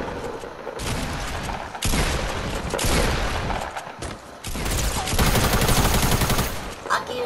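Rapid bursts of video game gunfire from Fortnite, loud and dense, with volleys running almost continuously and a brief lull near the middle.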